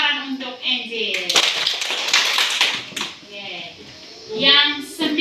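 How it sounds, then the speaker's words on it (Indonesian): Children join in a circle clap, a group of claps in a rhythmic pattern that rise and fall, with young voices chanting and calling out over the clapping. "Tepuk lingkaran untuk Angel."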